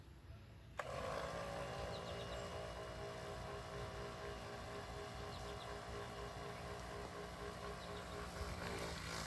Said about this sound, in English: And turn our pump on.